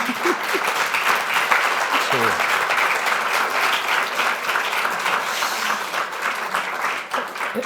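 Sustained, warm applause from a conference audience fills the whole stretch, dense clapping at steady loudness with a brief voice near the start.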